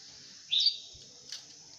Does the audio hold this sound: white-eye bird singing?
yes